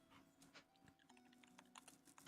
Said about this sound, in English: You hear the typing?